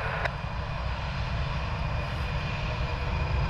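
Aircraft engine noise at Cleveland Hopkins airport, with a CRJ and an A320 nearby, gives a steady, loud, continuous roar with a heavy low rumble throughout and no speech.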